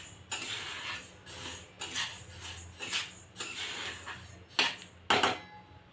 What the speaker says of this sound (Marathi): बाजरी अशी छान तडतड फुटत आहेत बघा.